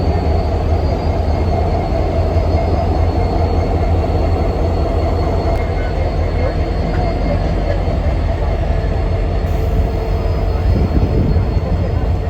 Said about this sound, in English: As we got up close to the trio of locomotives, they began to move as they were doing some switching operations to assemble the train